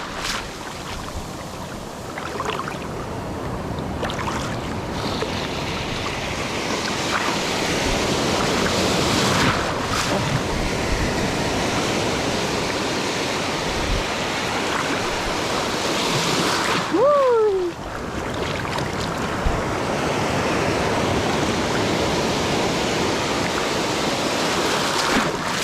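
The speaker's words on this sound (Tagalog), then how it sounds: "Malalaki na yung alon" Big ocean waves surge and wash steadily at sea near a small boat, a continuous broadband roar of surf and water with wind, holding level throughout; a brief whistling tone cuts through midway.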